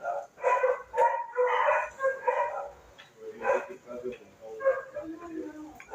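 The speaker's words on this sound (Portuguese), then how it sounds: "Perdão os cães aí que são latindo, fazem bastante barulho agora aqui no vizinho" Neighbour's dogs bark in repeated bursts nearby, mixed with whimpering and yips, while someone speaks over them.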